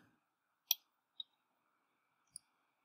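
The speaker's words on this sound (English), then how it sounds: "Click and drag and release." Three sharp computer mouse clicks sound while drawing in Floorplanner, crisp and close, spaced apart against near silence.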